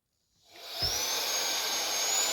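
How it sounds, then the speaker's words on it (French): A Meco Eleverde 4-in-1 vacuum switches on after a brief silence, its suction motor spinning up to a steady, loud whine with a bright high tone that holds for the rest of the moment. "je vais tester cette fois-ci l'aspiration pour essayer de nettoyer"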